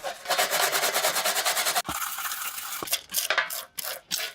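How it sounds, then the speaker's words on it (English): Close scrubbing and rubbing while cleaning the dirty plastic scales of a Victorinox Swiss Army knife: a rapid rhythmic brushing stroke, then a sharp tap and quicker uneven scraping strokes. "The plastic scales are quite dirty, so they are cleaned first."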